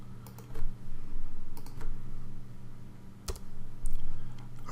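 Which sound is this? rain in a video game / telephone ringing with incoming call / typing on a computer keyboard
typing on a computer keyboard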